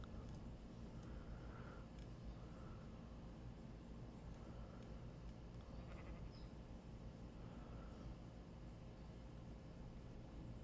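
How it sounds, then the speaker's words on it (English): Faint sheep bleats from a lamb in the video game Minecraft sound a few times over a steady, noisy background hum, distant and quiet, with no talking. "Got a little lamb over here."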